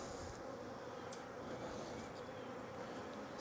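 Honeybees buzz steadily around beehives in a continuous, even drone, close but fairly quiet, with no voices.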